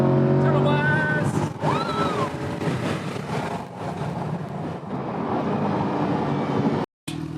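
A C8 Corvette accelerates hard through a tunnel, its engine roaring loudly with echoing reverberation and rising pitch, the sound filling the clip almost continuously before a brief cut near the end.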